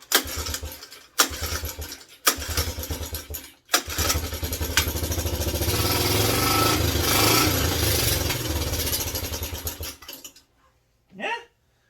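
A Suzuki LT125 ATV engine, cold-blooded and lacking an air filter, sputters through a few short bursts, then catches and runs steadily with a loud, rising rev before cutting off abruptly.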